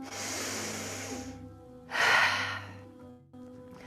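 Deep, strong breaths during a mindful breathing meditation: a long airy exhale, a pause, then a second forceful breath, close and breathy with no talking.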